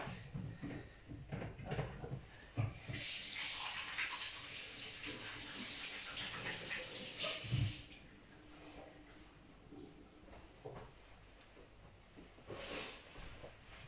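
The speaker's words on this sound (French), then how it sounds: "Je vais aller me laver les mains." Hands washed under a running kitchen tap, a steady stream of water splashing for several seconds, then cut off, followed by a brief second burst of running water.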